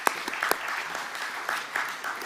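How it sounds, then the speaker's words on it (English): An audience claps for singers at a spiritual service, a short burst of moderately loud, fairly steady clapping with a few sharper individual claps standing out. "Big round of applause."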